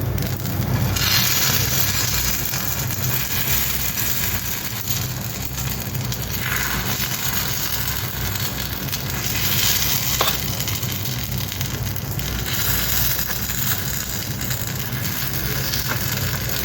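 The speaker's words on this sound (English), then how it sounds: "now you just remove the lid, flip the paniyarams both the side" Kuzhi paniyarams frying in a pan as they are flipped, a loud steady sizzle throughout with scraping and rubbing sounds from the turning.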